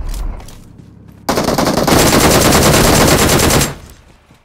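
A sustained burst of heavy automatic machine gun fire in the PUBG Mobile video game rattles loudly and rapidly for about two and a half seconds, preceded and followed by quieter game ambience.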